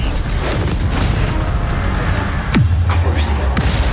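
Incendio fire spell cast in Hogwarts Legacy, a loud whooshing burst with a deep booming tail over constant game music and ambience, followed by a brief bright magical shimmer.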